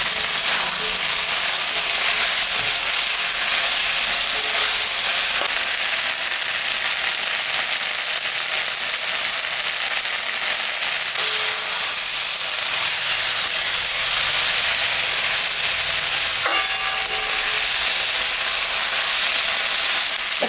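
Moya fish, added to a pan with spices and a spoonful of sugar, fries with a loud, dense, continuous sizzle and hiss, close and unbroken, with a few faint clinks and no talk.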